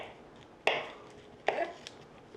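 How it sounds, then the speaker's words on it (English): A knife cuts through cold, firm butter, making it into tiny pieces: two sharp, close knocks against a board with a brief scrape after each, then a fainter tap, in a quiet room. "You notice I'm just cutting it into a lot of little teeny tiny pieces"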